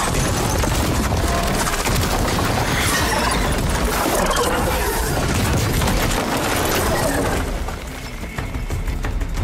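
Explosions and gunfire in the action game Horizon Forbidden West, a loud, continuous barrage of booms and rattling shots that fills the whole stretch before easing slightly near the end.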